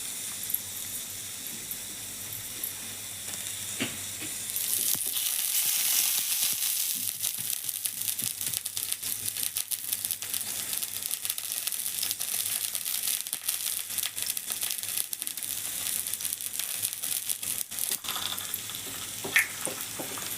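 A parotta cooks on a hot pan over a gas flame, giving a continuous close crackling sizzle that grows louder after a few seconds and runs steadily on its own.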